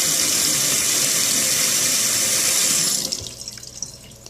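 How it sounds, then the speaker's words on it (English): Water rushes loudly and steadily through a Python hose siphoning water and gravel from an aquarium during a water change, then cuts off abruptly and trails into quieter gurgles and splashes. "This is how you remove water and vacuum your sand or gravel with the Python"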